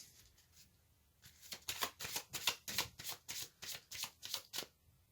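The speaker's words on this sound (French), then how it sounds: "Je vais tirer une carte supplémentaire." Tarot cards shuffled briskly by hand, a rapid run of crisp riffling flicks close to the microphone, fairly quiet and heard alone after a short pause.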